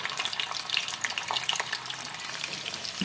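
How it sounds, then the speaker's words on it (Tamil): Paneer cubes fry in hot oil until golden brown for a paneer matar pulao, a close, continuous crackling sizzle with dense popping bubbles and no voices. "இதையும் நல்ல கோல்டன் ப்ரௌன் கலர் வர வரைக்கும் நல்லா பொரிச்சு எடுத்துக்கிறேன்"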